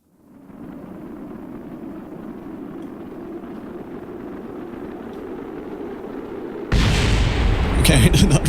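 Satellite carrier breaking apart in the atmosphere in Kerbal Space Program: a steady, loud rumbling roar that builds, then erupts into a sudden harsh crackling blast near the end.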